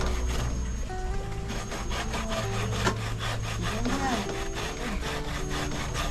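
Hand scraping or grating repeats in rhythmic rasping strokes at close range, steady and continuous, with faint background voices.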